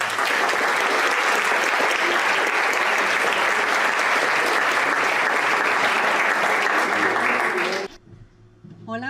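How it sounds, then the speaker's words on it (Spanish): An audience at a clinical psychology conference welcomes a doctor with loud, full applause that holds steady for about eight seconds and then cuts off abruptly, leaving a few faint sounds of the room. "Démosle la bienvenida con un aplauso a la doctora María de Lourdes Rodríguez"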